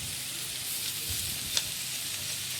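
Boiled cabbage frying in a pan for a Bengali village-style curry, a soft continuous sizzle with a single sharp clink partway through, quiet and close, no voices.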